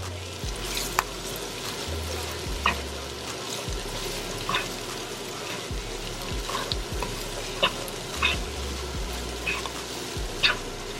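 Stuffed bell pepper filling sizzling in a pan while being stirred, a constant close frying hiss broken by scraping strokes and soft clinks of the utensil, no voices.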